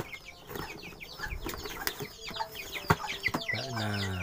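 A pair of frizzle chickens (ayam walik) newly bought from a market cluck and rustle in a cage, with scattered short calls, bumps and possible wing flaps, ending in a sustained louder tone.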